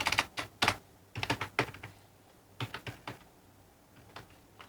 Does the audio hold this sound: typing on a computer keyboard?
yes